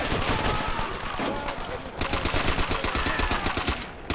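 SVT rifle fire in Call of Duty: World at War: a steady, rapid string of close, loud shots in an even rhythm over a busy battle backdrop.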